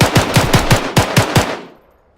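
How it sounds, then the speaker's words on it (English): A rapid burst of about eight loud, close gunshots in quick automatic succession, then a fading echo into quiet, from behind the squad during a military training exercise. "Gunshot behind us."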